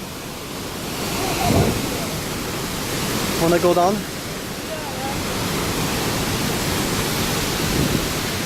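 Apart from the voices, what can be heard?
roaring waterfall at Pailon del Diablo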